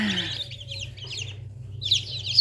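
Newly hatched Lohmann Brown chicks peep and cheep inside a Teplusha Aqua incubator, their high chirps coming in quick clustered bursts over a steady low hum of the machine.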